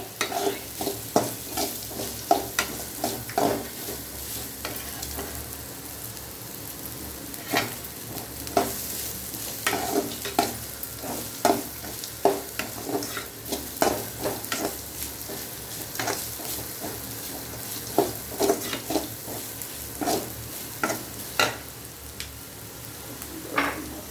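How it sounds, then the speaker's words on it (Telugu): Carrot rice being stirred in a pan, with a soft continuous sizzle and frequent scraping, clinking strokes of the spoon against the pan in an irregular rhythm, close and fairly quiet. "అడుగు పట్టకుండా బాగా కలపాలన్నమాట"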